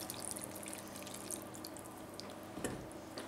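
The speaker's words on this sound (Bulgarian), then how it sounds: "Наливаме вода." Water pours into a baking dish of mixture for a meatless moussaka, a steady faint trickle and splash running nearly continuously with a brief louder gush near the end, no voices.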